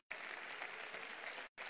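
Audience applause at a Sicilia Vera political convention in Catania: a steady, even wash of many hands clapping from a hall, continuous and fairly distant, with a brief cut near the end.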